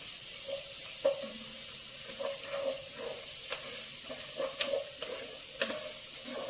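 Ginger garlic paste hits onions frying in a pan for a mushroom mixed vegetable curry, giving a steady hiss and sizzle with scattered stirring scrapes and clinks, close and moderately quiet, no talking.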